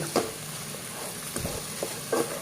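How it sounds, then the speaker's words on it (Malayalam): A spatula scrapes through fried banana pieces mixed in a pan, a few soft scraping strokes over a quiet, faint sizzle, with no voices. "എല്ലാം കൂടി ഞാനൊന്ന് ഇളക്കി കൂട്ടി റെഡിയാക്കിക്കുന്നു"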